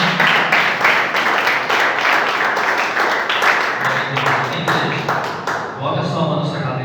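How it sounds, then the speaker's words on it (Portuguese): A church congregation at a Friday service claps together in sustained, fairly loud applause, and a voice speaks over it toward the end. "receba ele com as palmas"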